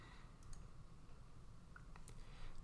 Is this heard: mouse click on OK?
yes